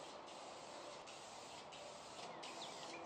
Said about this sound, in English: Finally, I finished them with spray lacquer.